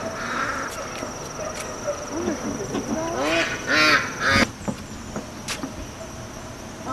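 Several ducks quack in a close, rapid run of calls against a light outdoor background, with a brief car-like honk and some faint talk nearby.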